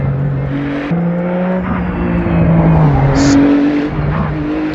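Ferrari LM296 GT3 race car in the Assetto Corsa racing game, its engine droning with shifting pitch through a replay, rising and falling steadily with a brief tire squeal, loud and continuous throughout.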